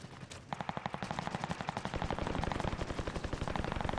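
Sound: gunfire from a gun in a video game

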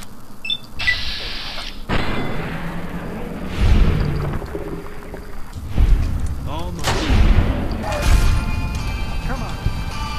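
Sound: gunfire in Fallout: New Vegas video game

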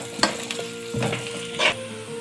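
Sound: beef frying with dry spices in a pan

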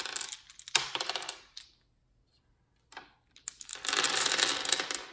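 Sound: gathering and shaking dice for On-Sets game

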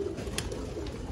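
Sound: frillback (curly-feathered) pigeons cooing

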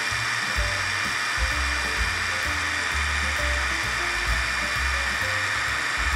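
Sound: Yasuka YIW 500CB cordless brushless impact wrench running in reverse

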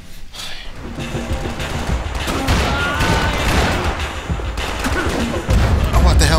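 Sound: gunshots from the video game Max Payne 3

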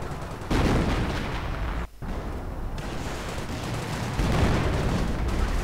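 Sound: artillery fire in a real-time strategy video game

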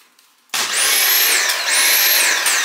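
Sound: Dyson cordless vacuum cleaner running

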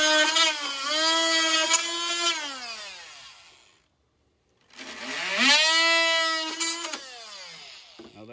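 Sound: DeWalt oscillating tool cutting along a rib in a Silverado

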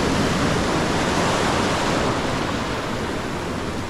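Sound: ocean waves breaking at a jetty in Maracas

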